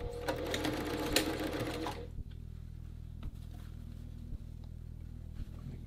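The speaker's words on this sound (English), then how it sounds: "And I'm gonna sew them in 1/2 inch" A sewing machine stitches a half-inch seam joining front and back pieces of a men's dress shirt yoke, a steady close motor whir with a brief stop and restart, then a softer running hum broken by short pauses.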